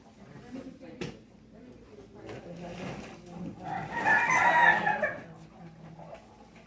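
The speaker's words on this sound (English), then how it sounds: "You'll just hear the roosters crowing at the post office" A rooster crows loudly in the middle, rising and falling, inside a post office where people talk and move around in the background.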